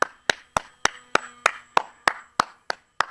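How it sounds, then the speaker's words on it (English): A single pair of hands clapping slowly and steadily, about eleven sharp, close claps spaced evenly with no voices in between, cheering on a flying cardboard model plane. "And I'm clapping for the model."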